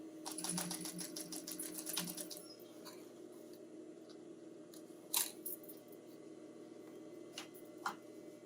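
Sewing machine double-stitching the casing seams of a fabric string backpack, a rapid rattling run of stitches for about two seconds, then quieter handling with a few sharp clicks.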